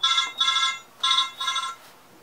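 Cell phone ringtone sounding indoors, four bright electronic bursts in two pairs with short gaps, loud and close, no talking over it.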